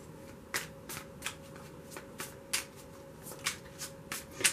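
Tarot cards being shuffled by hand in a series of crisp riffles and slaps, spaced at irregular intervals over a quiet room hum, with no talking.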